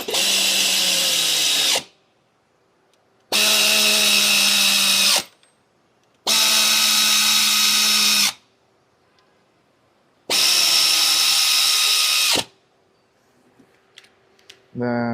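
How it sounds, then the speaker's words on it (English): Power tool driving the bolts on a water pump of a 2021 Genesis G70 3.3, four loud whirring bursts of about two seconds each, separated by quiet gaps, with a shorter burst at the very end. "let's tighten all the 12 bolts first"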